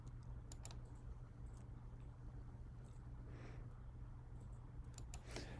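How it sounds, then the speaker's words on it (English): Faint, sparse clicks of typing on a computer keyboard, a few scattered keystrokes heard over a steady low room hum in a quiet setting. "I'm going to type it in just the same."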